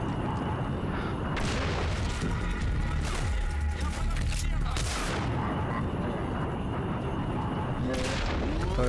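Gunfire in the shooter game Singularity during a headshot kill, with dense repeated booming shots and blasts filling the whole stretch, loud and close.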